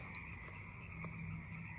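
Frogs croak faintly in the dark at the edge of water in the Pacific Northwest, a soft, steady chorus of low calls over quiet background hiss.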